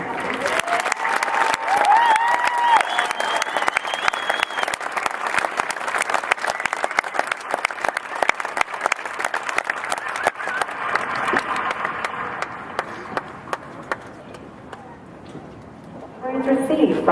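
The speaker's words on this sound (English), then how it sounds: "please join us in a warm round of applause for the officers and drill instructors of" A warm, sustained round of applause for the officers and drill instructors at a Marine Corps boot camp graduation, with a large crowd clapping steadily for over fifteen seconds and some voices and cheers mixed in.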